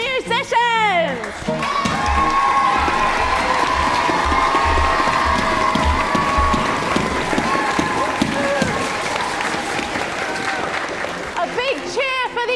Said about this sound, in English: A big cheer for the musicians!